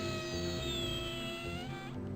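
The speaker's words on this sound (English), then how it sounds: "It sounded like a deflating balloon." A deflating balloon effect from the Freddi Fish video game: a squealing, reedy tone with wavering, slowly sliding pitch that runs steadily for about two seconds and then cuts off.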